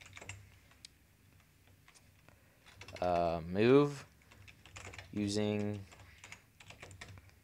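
Computer keyboard typing, light rapid key clicks scattered through the background under someone speaking, with a couple of louder voiced stretches in the middle.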